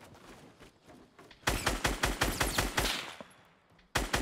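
Bursts of gunfire in Fortnite, sniping shots from an enemy: a quiet lull, then a rapid volley of sharp repeated cracks for about two seconds, fading out before one more loud shot at the end.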